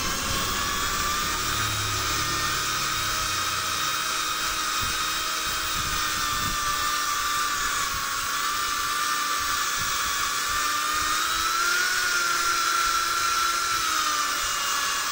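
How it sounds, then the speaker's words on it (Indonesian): A power drill runs continuously with a steady, high-pitched whine, close and loud, with no talking. "ini gunakan bor yang bisa dua arah"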